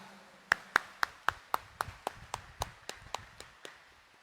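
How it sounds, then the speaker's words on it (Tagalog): Worshippers at a Quiapo Church Mass for the Nazarene clap in unison, about fourteen sharp, evenly spaced claps in a steady rhythm that fade slightly toward the end, echoing in a large space. "itaas nga ang kamay at pumalakpak ng mas malakas"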